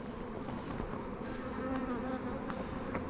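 Honeybees buzz at an open beehive being inspected, a close, continuous droning hum with individual bees whining past now and then, without speech.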